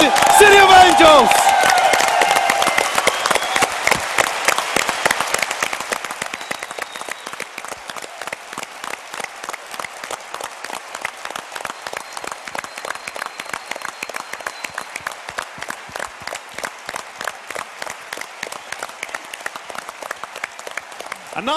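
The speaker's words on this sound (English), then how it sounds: "Let's give them another good applause." A crowd at EVE Online Fanfest 2015 applauds Team Serenity from China with dense, loud clapping that is strongest at first, then settles into a steady sustained round, with a voice briefly heard at the start.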